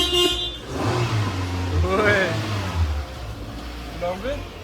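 A car is pulled out of a garage and revved while two friends prepare to clean it, its mid-pitched engine rising and falling close by with voices talking over it.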